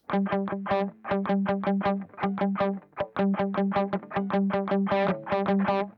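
Distorted electric guitar with no delay or reverb chugging a tight rhythmic riff with clean, abrupt note stops and no echo tails, loud and close.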